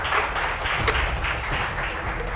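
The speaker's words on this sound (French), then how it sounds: "C'est génial, on applaudit." A studio audience claps at a cooking competition, a broad, even patter of applause held at a moderate level for a couple of seconds with no pauses.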